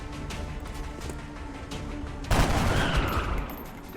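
Gunfire from a soldier in XCOM: Enemy Unknown (Long War mod): a dense, loud burst of shots bursts in partway through over a steady background of game sounds, then trails off into a fading rumble.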